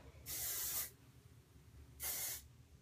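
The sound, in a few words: hairspray being sprayed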